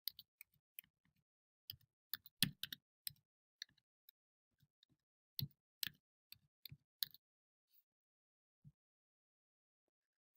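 Typing on a computer keyboard, heard as sparse, quiet clicks in short irregular clusters against near silence.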